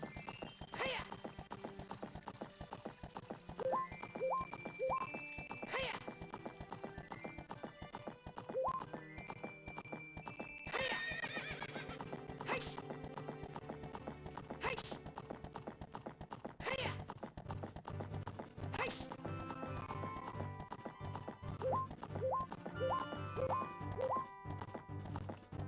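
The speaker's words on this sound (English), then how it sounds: "Faster, horse." A horse in The Ship of Harkinian video game gallops with a steady, rapid clip-clop of hooves and neighs loudly a few times, under game music.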